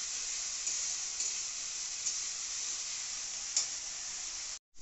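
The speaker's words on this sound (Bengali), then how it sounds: "দেখতে পাচ্ছেন পেস্ট করা মশলাগুলো দিয়ে দিচ্ছি, দিয়ে ভালো করে একটু নেড়ে চেড়ে দিচ্ছি" Spice paste added to a hot pan and stirred, giving a loud, steady sizzle with a few faint scrapes of the spoon, continuous until it stops abruptly near the end.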